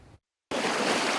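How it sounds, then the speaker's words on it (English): Lake Superior waves crash on the shore at Duluth's Park Point, a sudden loud, steady wash of surf rising after a brief gap of silence and holding strong to the end. "The waves of Lake Superior crash on Duluth's Park Point each day."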